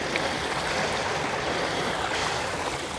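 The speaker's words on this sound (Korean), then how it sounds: "물소리가 너무 커가지고 다시 일어났어요" Loud, steady rush of flowing water beside a running route, a dense continuous wash with no breaks, close and filling the whole moment.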